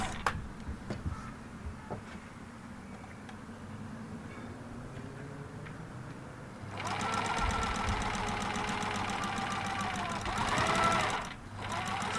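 A sewing machine stitches a wrap pants seam around the crotch curve: quiet handling and brief speech at first, then a steady, close, rapid mechanical whir that runs several seconds, pauses briefly, and starts again.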